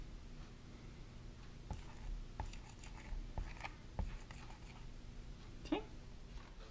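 A Blami chalk marker scratches and taps across a surface in short, faint strokes with small pauses between them. The scene is quiet and close, with no talking.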